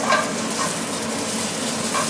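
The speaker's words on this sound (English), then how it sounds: "we're going to let that cook for a minute or so, because I want to sear in those juices" Meat sears in a hot pan with a steady, even sizzle and crackle, close and continuous, with faint spatters and a light clink of a utensil or pan.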